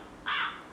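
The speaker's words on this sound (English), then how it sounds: "Crow" A single crow gives one short, harsh caw, fairly faint over a soft background hiss.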